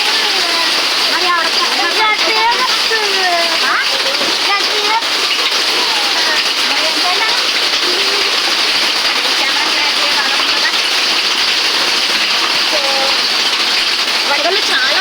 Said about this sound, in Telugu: వడగళ్ళు చాలా పడుతున్నాయి.